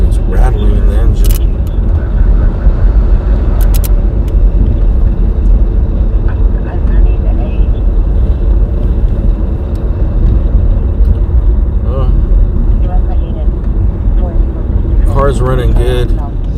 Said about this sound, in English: something sounds like it's rattling in the engine